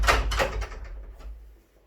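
A loose handle on a cheap hollow wooden door is tugged, giving a few dull knocking rattles that fade out quickly, close by and with no talking.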